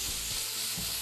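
Olive oil sizzles in a hot frying pan while making beef rolls, a steady close crackling hiss with soft stirring thumps underneath, no voices.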